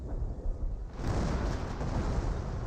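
A booby trap goes off in the World War II strategy game Company of Heroes, a loud broadband blast about a second in that rolls into a sustained rumbling roar for the rest of the moment, with no voices.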